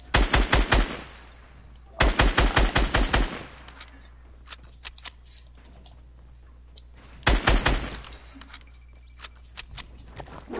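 Rapid bursts of automatic gunfire in a shooting video game, three loud volleys of quick repeated shots separated by quieter stretches with scattered clicks.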